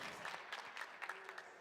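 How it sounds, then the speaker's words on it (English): A crowd applauding at the PUBG Mobile World Invitational 2022 esports event: soft, distant clapping with scattered sharper bursts, fairly faint and continuous throughout. "I love hearing that crowd"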